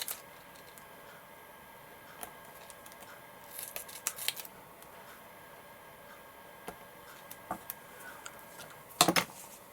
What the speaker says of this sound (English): So I can just cut some really thin strips.